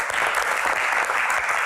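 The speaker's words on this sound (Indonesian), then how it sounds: "Kita gua berikan tepuk tangan untuk para panelis yang sudah ada di sini" An audience at a Q&A session breaks into dense, steady applause for the panelists, loud and sustained throughout with no pauses.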